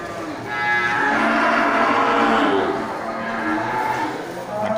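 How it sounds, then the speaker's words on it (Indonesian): Beef cattle bred for slaughter and fattening moo loudly and repeatedly at a livestock sale, the long low calls sustained over farm background noise. "Ya, sapi super ya punya Nelia."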